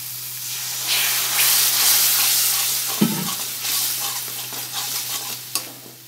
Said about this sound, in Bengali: জল দিয়ে মশলাটা ভালো করে কষাবো